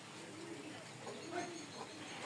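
Pigeons in a home loft, cream-bar racers among them, coo softly in short repeated rolling notes, faint and somewhat distant over rain and low background noise.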